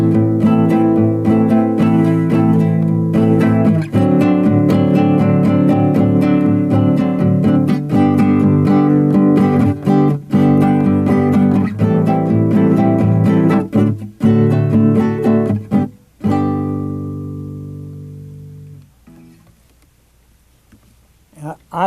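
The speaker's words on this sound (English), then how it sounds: "I'm going to illustrate a 2-bar pattern," Acoustic jazz guitar strumming a two-bar rhythmic pattern grouped 3-3-2 then 2-3-3, with crisp repeated chord attacks, close and loud, before fading to quiet ringing near the end.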